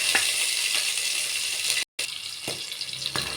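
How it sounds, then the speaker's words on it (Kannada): Green chillies fry in a pan with a dense, steady hiss and crackle, close and continuous, interrupted by one brief dropout and a few light clicks. "ಹಸಿರು ಮೆಣಸಿನ್ಕಾಯಿ ಫ್ರೈ ಆದಮೇಲೆ"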